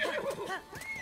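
A horse in The Legend of Zelda: Breath of the Wild whinnies with a rising and falling neigh, with soft hoof clip-clop underneath, moderately close and without speech.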